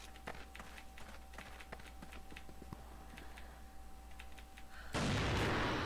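Gunfire in the online shooter CrossFire: a series of sharp, fairly faint shots spaced irregularly over a few seconds, then a sudden loud burst of dense noise near the end, with no talking.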